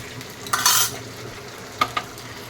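Hilsa fish head frying in oil while being stirred, with a brief burst of scraping and sizzling followed by two short clinks of the spatula against the pan.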